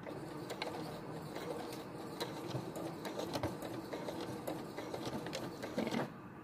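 A sewing machine stitches a straight seam on a cloth face mask, a steady close whirring run with small mechanical clicks throughout and a brief louder burst near the end.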